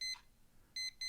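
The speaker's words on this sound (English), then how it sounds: "the alarm buzzed" An alarm clock sounds a series of short, bright electronic beeps in quick bursts, one brief pulse followed after a gap by a tight pair, fairly faint in a quiet room.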